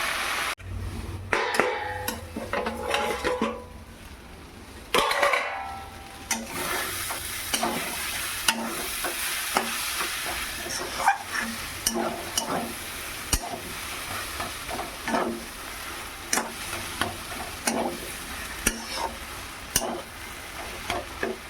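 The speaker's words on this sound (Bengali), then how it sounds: "এইভাবে শাকটাকে আমি কিছুক্ষণ নাড়াচাড়া করে নামাবো" Water spinach with fish roe stirred in a hot pan: a continuous sizzle with repeated scraping and clacking strokes of a spoon against the pan, close and steady, with no talk.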